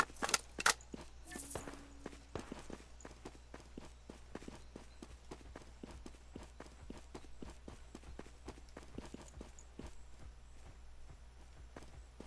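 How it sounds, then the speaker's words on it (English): Footsteps in a PS4 shooter video game, a fast steady run of crisp steps lasting the whole stretch, with a few louder clatters near the start. "Thought I was hearing other footsteps."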